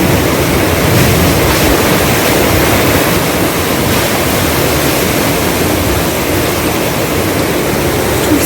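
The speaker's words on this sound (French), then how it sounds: "le bruit que vous entendez en fond, c'est le moulin de Montpertuis" Rushing water at the Montpertuis water mill, a loud, constant broadband roar close by, with no breaks and no voices.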